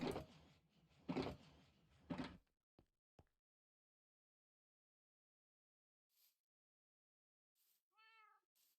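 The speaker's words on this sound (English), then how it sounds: "Sorry, I heard a cat meow." A cat meows once, a short faint rising cry near the end after a few seconds of quiet, following several loud knocks and door-like thumps at the start.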